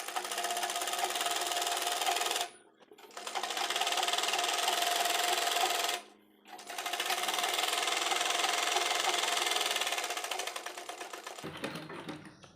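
A sewing machine stitches a seam on a frock for a one-year-old baby, running in steady, loud, continuous bursts with two short pauses between runs, close up.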